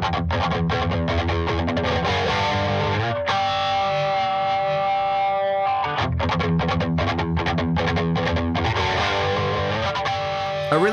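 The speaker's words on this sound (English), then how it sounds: "Now let's hear the Axis Flanger first in the chain." An electric guitar runs through an Axis Flanger pedal placed first in the chain, ahead of gain pedals, into a Fender '59 Bassman amp, giving a distorted, sweeping jet-like tone over strummed chords and sustained notes, loud and continuous.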